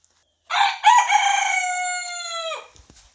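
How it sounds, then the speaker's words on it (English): A caged rooster lets out one loud, close crow lasting about two seconds, alone with no talking. "It's supposed to stand straight up and put its wings out when he's crowing"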